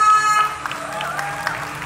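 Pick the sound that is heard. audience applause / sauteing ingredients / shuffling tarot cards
audience applause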